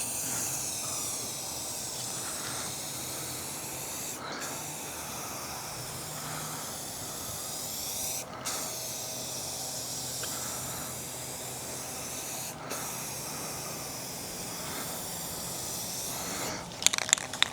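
A steady hiss of an aerosol spray paint can, pressed by thumb in long streaks, runs nearly continuously, broken by a few brief pauses, close and fairly quiet, ending with a couple of clicks.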